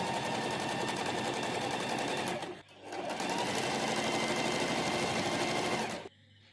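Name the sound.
sewing machine stitching a collar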